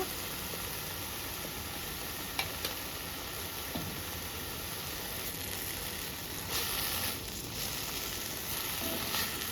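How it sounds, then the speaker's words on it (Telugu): Mint leaves fry in oil over a medium flame, giving a soft, continuous sizzle with occasional faint ticks and stirring sounds. "మీడియం ఫ్లేమ్లో పెట్టుకొని బాగా ఫ్రై చేసుకోవాలి"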